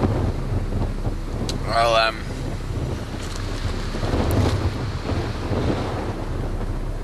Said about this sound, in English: I don't know whether you can even hear me because of that wind.